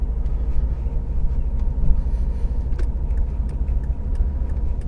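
Car driving on a quiet Saturday-morning road from Hawkinge down to Park Farm Industrial Estate in Folkestone, a steady low engine and road rumble heard from inside the cabin, with occasional small rattles.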